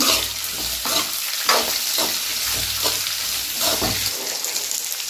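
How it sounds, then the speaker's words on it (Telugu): Thin-sliced ginger and green chillies fry in a pan for a hotel-style poori curry, giving a close, steady sizzle broken by repeated stirring scrapes and no talk. "అవి కూడా వేసేసుకుందాము ఇది కాసేపు మక్కనివ్వాలన్నమాట"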